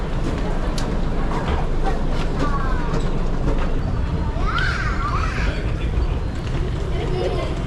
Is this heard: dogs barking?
no